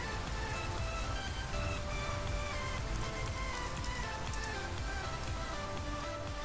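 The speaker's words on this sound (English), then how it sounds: "Why is there still rain sounds?" Steady rain patters continuously in the video game Minecraft, a dense even hiss of drops on surfaces with no breaks, heard alone.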